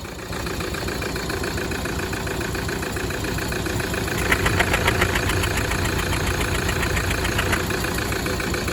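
Toyota 1KD-FTV diesel engine idling rough with a cracked piston, a steady close, loud knocking clatter with an uneven pulsing rhythm that runs throughout and gets harsher partway through.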